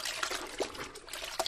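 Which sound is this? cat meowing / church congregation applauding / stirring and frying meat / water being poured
water being poured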